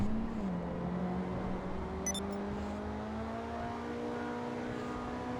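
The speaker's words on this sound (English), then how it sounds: "We'll do us another high-speed run here real quick" Coquette D10 sports car engine in GTA Online on a high-speed run, a steady droning engine note that climbs gradually in pitch as it accelerates, with a brief high chirp partway through and no talking.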